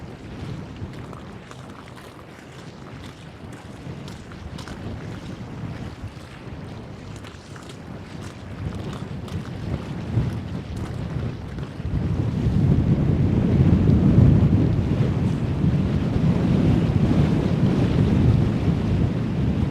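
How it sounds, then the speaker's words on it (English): Steady wind in Toronto roars and buffets the microphone, growing stronger and louder partway through, with no voices. "Holy shit, it's windy."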